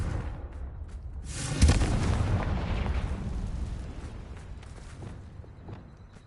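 A Confringo fire-blast spell goes off in a wizarding video game: a sudden loud burst with a rumbling, crackling tail that slowly fades over several seconds, heard alone with no talk.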